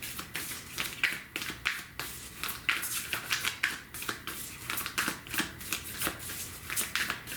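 Tarot cards are shuffled close by in quick, rhythmic bursts of papery riffling and soft slaps, repeating evenly with no talk over it.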